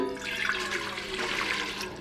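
Water pours steadily from a tap into a pot for steaming kale, a short, even splashing stream with no voices.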